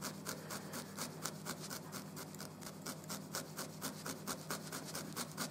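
A felting needle jabs repeatedly into wool, producing a quiet, fast, steady rhythm of soft scratchy pokes at close range, about three per second, with no talking.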